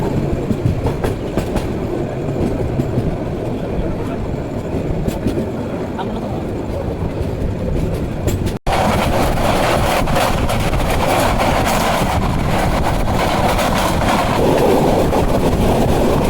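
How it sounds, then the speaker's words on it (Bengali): A train rumbles steadily along at speed, with continuous rail clatter and wheel noise; the roar swells louder partway through as it passes through Tongi Junction station at night. "আমাদের train Tongi railway junction station থ্রুপাস করে চলে যাচ্ছে"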